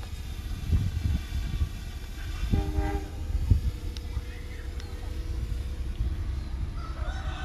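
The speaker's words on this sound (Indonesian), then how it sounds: "terdengar gemuruh kereta api" A low, steady rumble of a train passing at a distance on the Kutoarjo–Purworejo line, with a brief horn-like tone and faint bird calls over the noise.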